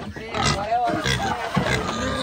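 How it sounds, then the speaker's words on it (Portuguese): Pigs on a farm grunt close by in short, uneven snorts that are mixed in with people talking over them. "Olha os porcos."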